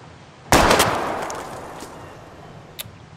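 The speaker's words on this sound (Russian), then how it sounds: "We're gonna shoot all these bottles without wasting a single." A sharp, loud gunshot from the video game Life is Strange as bottles are shot, one crack with a quick echoing tail that fades out, then a faint smaller pop near the end.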